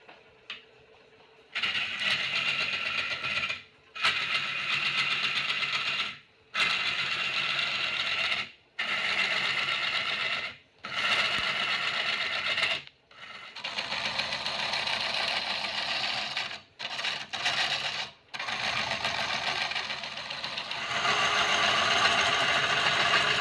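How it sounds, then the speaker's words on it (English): A wood lathe spins a bowl blank while it is hollowed out, giving a loud mechanical whir in long stretches broken by brief stops as the machine cuts out and restarts. "So now what I'm going to do is show you how we spin it and start hollowing"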